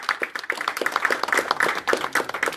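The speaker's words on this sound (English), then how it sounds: "So please put your hands together for me." An audience at a welcome event in Ghana claps in dense, lively applause, many hands overlapping close and fairly loud for a couple of seconds.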